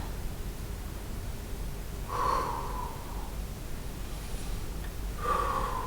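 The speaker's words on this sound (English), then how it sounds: "You're breathing heavily, you're not the only one." Heavy breathing during an exercise workout: two sharp, loud breath bursts, like gasping exhales or snorts, spaced about three seconds apart over a low steady background hum.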